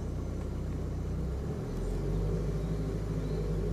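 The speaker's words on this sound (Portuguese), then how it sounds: "Mudo o ronco do carro" A car engine idling low, then rising to a steadier, heavier drone around the midpoint as the accelerator is pressed during a reverse hill manoeuvre, with the clutch being eased out; close, continuous and without speech.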